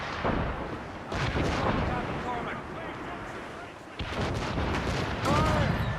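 Ship cannons booming in the naval combat of Assassin's Creed Rogue, heavy repeated blasts over a rumbling, chaotic battle din, with voices speaking over the gunfire.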